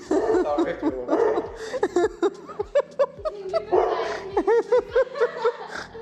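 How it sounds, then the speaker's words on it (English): A dog in a photo studio gives a series of short barks and whining yelps, some rising and falling in pitch, fairly close and loud, with no talking. "Oh, the studio dog."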